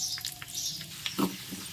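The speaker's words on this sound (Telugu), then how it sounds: "జీడిపప్పు ఫ్రై అయిపోయిందండి." Cashews sizzle and crackle in hot ghee in a pan, a steady close frying hiss with a few brief stirring scrapes, no talking.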